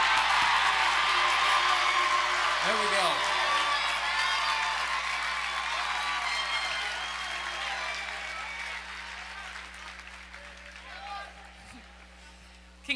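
Audience at an awards ceremony, the Chirpies 2023, stands and applauds with cheers and whoops, a dense, loud wash of clapping that slowly thins toward the end, with a voice speaking briefly over it.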